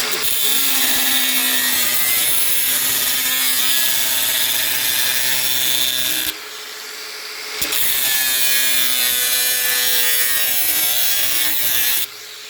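An Einhell angle grinder with a chipped disc cuts with a harsh, rasping whine and an uneven rhythmic chatter, pausing briefly mid-way before cutting again, loud and close.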